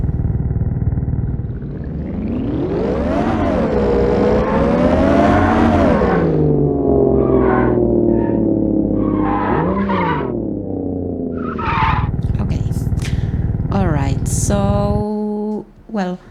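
Simulated car in an Unreal Engine vehicle demo: a loud engine revs up and down in sweeping pitch over the whole stretch, joined later by screeching tire skids, with no talk.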